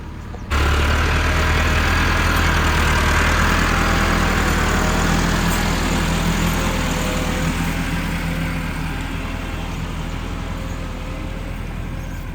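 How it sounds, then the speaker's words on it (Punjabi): A tractor engine runs loud and steady while zero-drill sowing wheat, its wheels slipping in the field; the drone holds close and continuous throughout, with no talking. "ਸਲਿੱਪ ਮਾਰ ਰਿਹਾ ਟਰੈਕਟਰ।"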